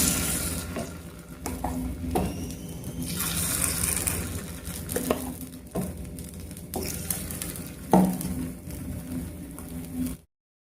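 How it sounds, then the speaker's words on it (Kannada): Vegetable paddu batter sizzles in hot oil in a paddu pan with a steady hiss, punctuated by clinks and scrapes of a utensil and a brief watery pour. "ಎಣ್ಣೆ ಬಿಸಿ ಆದ ನಂತರ ಪಡ್ಡು ಹಿಟ್ಟನ್ನು ನಾವು ಪಡ್ಡು ತವದಲ್ಲಿ ಸೇರಿಸ್ಕೊಳ್ಬೇಕು."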